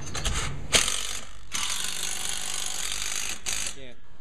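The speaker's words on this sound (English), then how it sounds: "we're going to tighten it all up" A ratchet spins rapidly while tightening the clamp bolts on a Sprinter van's roof rack, giving a loud, continuous clicking that runs in long pulls with brief pauses between them.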